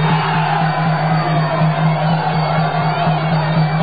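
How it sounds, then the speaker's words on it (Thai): A large crowd at a Muay Thai fight roars and cheers loudly and continuously, a dense wall of voices with shouts and whoops blending together, alongside a steady low hum. "โอ้โหเสียงเชียร์แรงมากเลยนะครับ"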